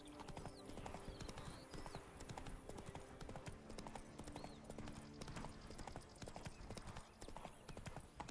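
Horse hooves clip-clop steadily throughout a Witcher 3 game scene, a continuous rhythmic trot with brief whinny-like tones over layered game ambience and music.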